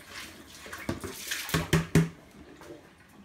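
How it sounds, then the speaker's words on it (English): Hard water tipped from a bowl down a sink, a short run of splashes and pours with a few sharp clinks of the bowl against the basin, close and fairly loud, no talking. "Tip the hard water away down the sink"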